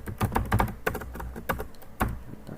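Rapid typing on a computer keyboard with a sticking T key, a close run of clustered clicks and taps with short pauses between bursts.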